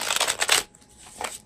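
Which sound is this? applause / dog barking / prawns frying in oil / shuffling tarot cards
shuffling tarot cards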